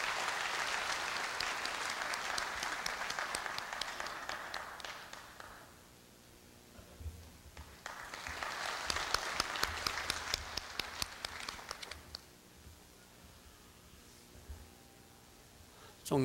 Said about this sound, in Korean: 큰 박수로 교우회장님을 맞이해 주시길 부탁드립니다